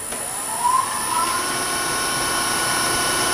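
A wood lathe turning a bottle stopper gives off a steady, whining motor drone with a high tonal hum and rising whistling overtones.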